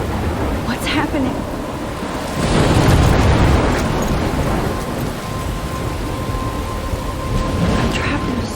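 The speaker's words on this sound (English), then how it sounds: "I'm trapped in a storm?" Thunderstorm in Life Is Strange, loud steady rain with a long rolling thunder swell in the middle and crackling bursts, dense and close.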